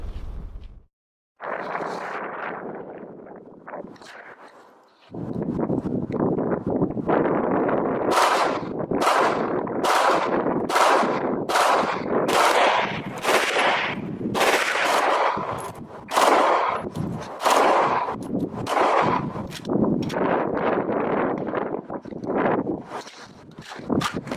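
A Glock 17.5 pistol converted to fully automatic fire shoots rapid bursts, loud and close, after an opening stretch of rushing noise, ending in a fast string of sharp cracks.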